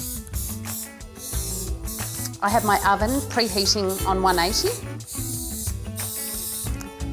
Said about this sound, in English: Just a little spray with some olive oil.